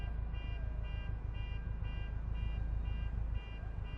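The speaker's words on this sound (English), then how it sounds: "Whose car alarm's going off?" A car alarm in Forza Horizon 2, in a subway, blares in a repeating electronic pattern over a steady low rumble, cycling evenly for several seconds.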